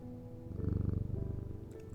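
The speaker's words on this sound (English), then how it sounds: "Pet the kitty." A cat purrs when petted in the video game Strange Antiquities, a soft, brief, rhythmic low rumble that swells and pulses for about two seconds, with no talking.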